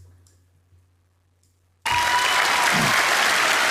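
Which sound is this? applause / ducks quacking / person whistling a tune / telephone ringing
applause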